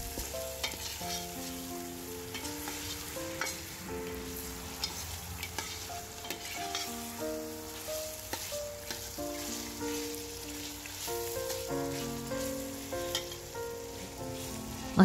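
Chicken pieces fry and sizzle in spice paste and oil while being stirred in a pot, a steady close crackle with light scraping, under constant background music.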